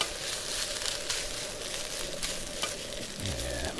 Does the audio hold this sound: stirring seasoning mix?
yes